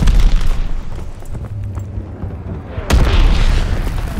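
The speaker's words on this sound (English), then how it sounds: "Friendly mortar fire coming." Mortar shells bursting in Call of Duty Vanguard multiplayer, a deep, loud boom at the start and another heavy blast near the end, with rumbling debris and distant battle noise between.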